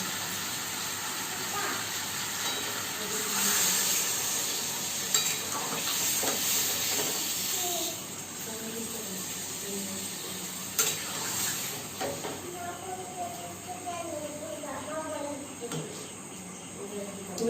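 A pot of cauliflower and potato curry bubbles and hisses steadily after water is poured in, a soft continuous simmer with occasional clinks and stirring, while someone speaks intermittently over it.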